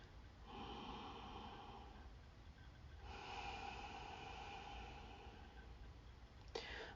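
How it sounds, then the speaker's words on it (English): Slow, steady breathing with a soft whispering hiss in the back of the throat, a long quiet inhale followed by an even longer exhale, close and faint. "steady exhale with a whisper sound in the back of your throat."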